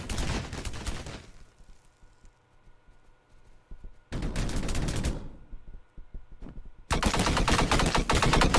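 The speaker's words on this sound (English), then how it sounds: "Who's shooting me?" Rapid automatic gunfire in the Roblox shooter Energy Assault, three loud sustained bursts with quieter single shots and faint clicks in the gaps between them, close and harsh with no talking.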